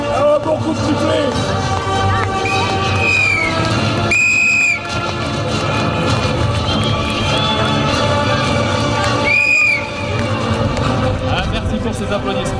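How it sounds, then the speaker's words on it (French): Whistles blown by the crowd at the 2012 Prouvy-Valenciennes air show, two sharp shrill bursts standing out over constant crowd noise and loud announcer talk. "Un bon coup de sifflet."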